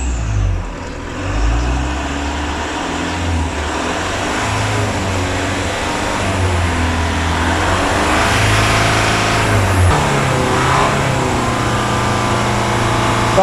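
A diesel car engine held at about 2,500 to 3,000 rpm during an exhaust-pipe cleaning drones loudly and steadily, with the pitch shifting slightly as the revs waver.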